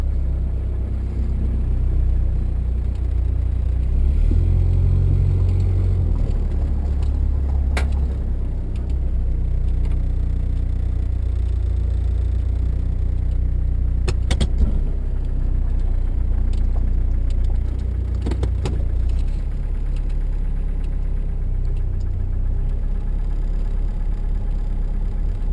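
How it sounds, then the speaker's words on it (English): Car engine idling steadily after a cold start, a continuous low rumble with a mid-range whir, close and even throughout with a few brief clicks and no voices. "And now it's idling"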